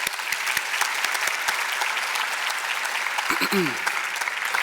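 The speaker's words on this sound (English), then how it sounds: "can we please give a round of applause for this beautiful organization" Applause from the audience at a community foundation's annual meeting, a steady wash of clapping with a few sharp individual claps standing out, and a brief voice briefly rising through it.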